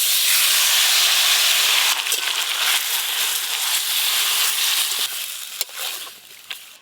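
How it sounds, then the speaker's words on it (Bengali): Spiced, pre-boiled ash gourd frying in hot oil tempered with dried red chilli and curry leaves, a steady broad sizzle and hiss close by, softening slightly toward the end with a few clinks of stirring. "এবার মশলা মাখানো চাল কুমড়ো ছকে দেব।"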